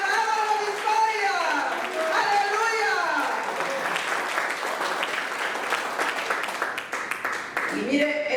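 A church congregation claps together after a sermon, sustained applause with a voice speaking over it and rising at the end.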